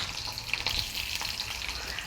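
Chopped onion frying in hot oil makes a soft, continuous sizzle with faint bubbling, close but fairly quiet, with no talking, over a short stretch.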